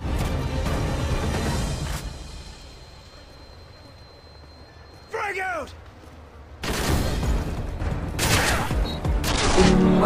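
A loud, sustained gunfire volley erupts in the video game Modern Warfare 3 after a quieter stretch with a voice, rumbling on dense and close to the end.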